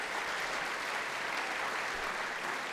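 Applause for the orchestra at a curtain call of Bernstein's opera Trouble in Tahiti, with the audience clapping in a continuous, even, dense roar throughout.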